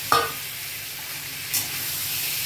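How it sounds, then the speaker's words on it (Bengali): Marinated chicken and potatoes sizzling in a pan over a low gas flame for a dhaba-style chicken curry, with a steady close frying hiss and two brief stirring scrapes, no talk. "এবার ম্যারিনেটেড চিকেনটা দিচ্ছি। চিকেন আর আলু দিয়ে দিলাম।"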